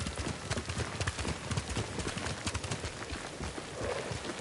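Horse hooves clip-clop in a steady rhythm in the video game Ghost of Tsushima, loud and close against a dense bed of ambient game sound.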